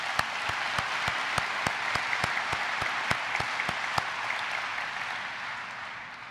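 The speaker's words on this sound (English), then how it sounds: "give them a big round of applause" An audience at a port's annual State of the Port address applauds with steady, evenly paced clapping that tapers off toward the end.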